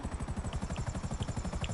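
A helicopter flying in GTA, with steady rotor thumping in a fast, even pulse under a constant whine, close and moderately loud, with no talk.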